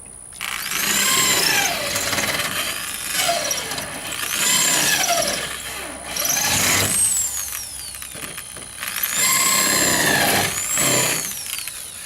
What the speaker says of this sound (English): Now I'm going to open it up some by drilling up and down and